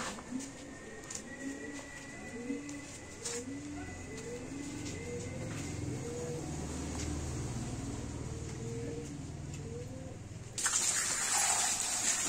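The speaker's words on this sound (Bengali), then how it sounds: "ছাগলগুলো মোটর দিয়ে এখন গোসল করাবো।" A motor pump's water jet hits goats being bathed. It begins as a sudden loud broadband gush near the end of the clip, after a quieter stretch of farmyard ambience with soft bird-like cooing.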